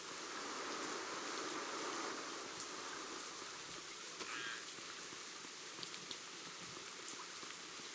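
Rain in the farming video game Big Farm Story, a dense steady hiss of rainfall filling the whole stretch at even loudness, with no talk.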